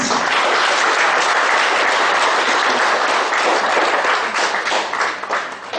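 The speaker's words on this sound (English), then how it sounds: "Big round of applause." An audience applauds at a book-distribution program, loud sustained clapping from many hands that continues steadily before tapering off slightly at the end.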